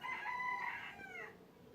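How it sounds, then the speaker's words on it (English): In Pittsburgh, a single rooster crows once, a drawn-out call lasting about a second, fairly faint and somewhat distant against quiet background. "You hear the rooster?"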